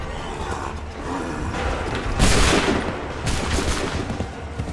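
Massed musket volley in Assassin's Creed 3, loud crackling bursts of gunfire over a dense battlefield din, with the heaviest burst midway and another near the end.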